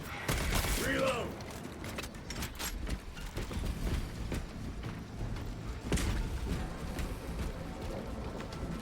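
A gun being reloaded in a Warhammer 40K video game, with mechanical clicks and ratcheting clatter layered over busy battlefield noise and scattered distant shots.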